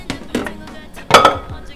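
A lid is set onto a bowl before it goes into a small microwave, giving a few sharp clinks and knocks of dishware, the loudest one near the end, close and distinct.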